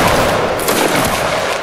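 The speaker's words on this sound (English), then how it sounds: "Nice volley, guys." A musket volley from a line of soldiers in the Roblox Waterloo battle game: a dense, loud crackling burst of overlapping shots that rolls on through the whole moment with no talk.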